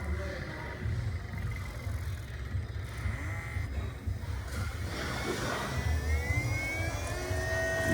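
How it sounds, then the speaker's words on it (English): The electric water pump on a BMW N55 engine runs while the coolant is bled, giving a steady whirring hum with rising whine tones close by, under a continuous low drone. "hold the gas pedal for 15 seconds without starting the motor, and it'll bleed your electric water pump"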